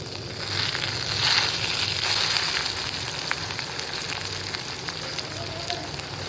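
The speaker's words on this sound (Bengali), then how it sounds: "তেলটা গরম হয়ে গেছে, গোটা গরম মশলাগুলো দিয়ে দেবো তেলে।" Whole garam masala spices fry in hot oil with a continuous crackling sizzle and scattered sharp pops, close and fairly loud, with no speech.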